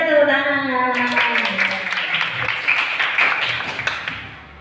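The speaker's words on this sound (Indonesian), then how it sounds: "Ayo tepuk tangan." A class of children claps their hands together in a quick, bright, rhythmic burst led by a teacher's call. A teacher's voice comes first, with singing-like speech, then the clapping fills the rest.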